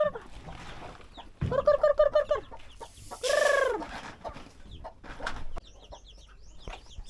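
Native chickens with newly hatched chicks cluck in bursts of short, repeated calls close by, with one longer, louder drawn-out cry in the middle and soft scattered peeps between.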